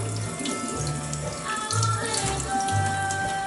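Running water from a tap washing grit off foraged wild fungi, a steady splashing flow with intermittent patters as the food is rinsed, close and moderately quiet, with no talk.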